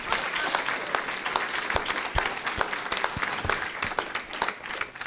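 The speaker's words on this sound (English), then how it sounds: "Give him a nice round of applause." An audience applauds at a live house-flipping seminar, a steady wash of many hands clapping at moderate volume with a few sharper individual claps standing out, filling the whole stretch without talk.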